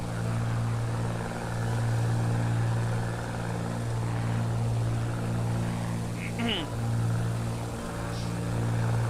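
Steady droning propeller engine of a Bonanza A36 six-seater in Microsoft Flight Simulator, a constant low hum throughout, loud and continuous, with a voice talking over it.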